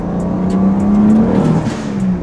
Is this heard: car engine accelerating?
yes